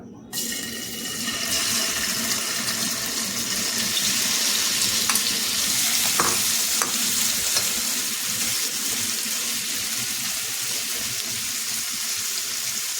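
Prawns fry in a pan with a continuous, dense sizzling hiss that stays close and steady throughout, with faint voices in the background.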